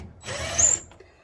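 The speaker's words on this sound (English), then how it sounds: "Doesn't know how to work a drill." A power drill drives a screw into a vintage trailer, a short whirring burst of about half a second, moderately near, with low background noise and no talk.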